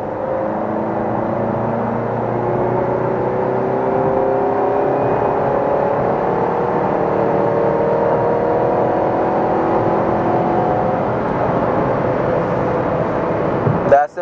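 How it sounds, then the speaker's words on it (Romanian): A Renault Fluence with a 2.0-litre 16-valve engine pulls from 80 km/h in fourth gear, its steady engine drone rising gradually in pitch from inside the cabin before ending in a brief clatter. "O reacție foarte rapidă și sportivă a motorului"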